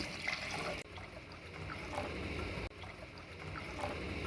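Water runs steadily into a cooking pot for prawn biryani, a continuous close gurgling trickle with faint clinks, no voices.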